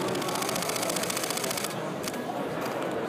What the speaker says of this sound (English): you take a lot of pictures before the buffer capabilities start to fall off